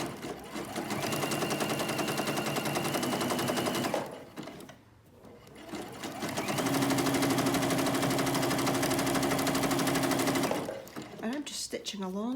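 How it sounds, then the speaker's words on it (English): Sewing machine stitching fabric fringe bunting, running in two long steady bursts with a brief pause between, a fast even mechanical rattle close by, stopping near the end. "I'm just going to stitch along on the right side"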